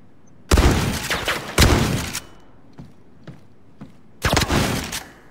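Enemies blind firing in the video game Zero Caliber 2: loud, close bursts of gunfire in two quick volleys, then scattered single thuds and shots, and a final heavy burst.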